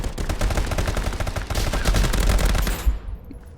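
Rapid automatic gunfire rattles continuously in Call of Duty played in VR with the Contractors mod, a loud dense burst of shots that cuts off near the end.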